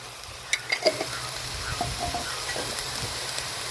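Brinjal chutney ingredients with salt and turmeric are stirred in a hot pan, giving a close scraping stir over a steady sizzle with a few clattering knocks early on.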